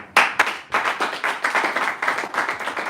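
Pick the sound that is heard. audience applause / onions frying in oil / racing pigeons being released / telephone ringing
audience applause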